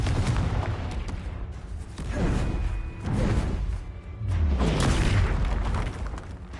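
Repeated Confringo and Bombarda spell explosions in the Hogwarts Legacy video game, a series of booming blasts with whooshing swells and low rumbles in heavy combat, loud and near.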